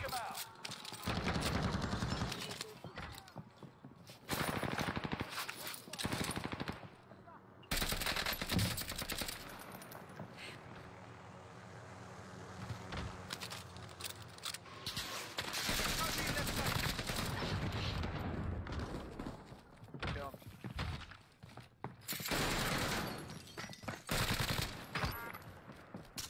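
Gunfire in the Call of Duty Warzone video game: dense machine-gun bursts and single shots, loud and close, broken by brief gaps, with a player talking over the shooting at times.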